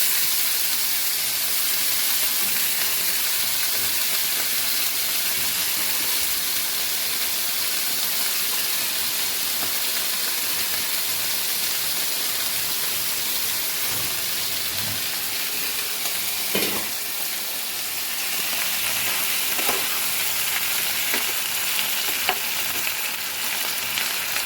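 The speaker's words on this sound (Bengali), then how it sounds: "ওটার মধ্যে সবজিগুলোকে একটু ভেজে নিই হালকা করে।" Vegetables fry lightly in a frying pan that was used for potatoes, giving a steady, close, continuous sizzle and hiss with a few faint stirring clinks near the end; no talking.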